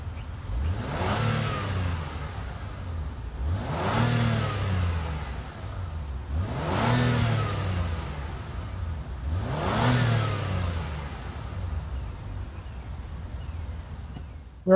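The turbocharged V6 engine of a 2024 Acura MDX Type S revs hard four times in a steady pattern, each rev rising sharply in pitch and then falling back, loud and close.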